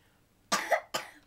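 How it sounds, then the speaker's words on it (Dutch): Two quick coughs from a child at a meal, close and fairly soft, separated by a short pause in an otherwise quiet room. "Hand voor je mond als je hoest."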